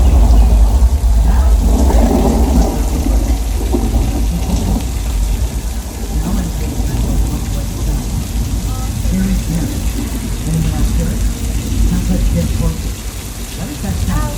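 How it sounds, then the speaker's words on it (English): Heavy rain pours down continuously with a dense, roaring wash and low rumbling underneath, steady throughout, during a simulated flash flood on the Universal Studios Hollywood studio tour. "heavy rain falling"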